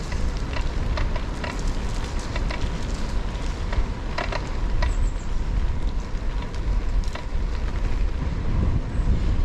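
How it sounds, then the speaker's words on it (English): Wind roars steadily through the tops of trees outdoors, a broad, constant rushing wash with small bursts of gusting and rustle, fairly loud and unbroken throughout. "Wind's picking up in the tops of the trees."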